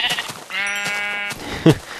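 A synthetic-sounding Minecraft sheep bleats once, drawn out and nasal, followed by a short thump and rustle.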